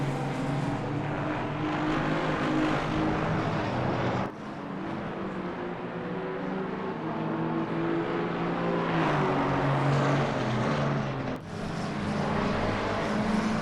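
GT3 and GT4 race cars lapping the Nurburgring GP circuit in a multiclass championship round, a steady loud engine drone that swells and dips as cars pass, with no voices.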